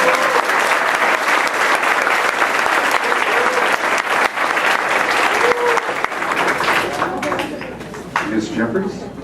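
An audience at a school district board meeting claps loudly for honored employees, a full sustained round of applause that thins toward the end, with voices and cheers mixed in.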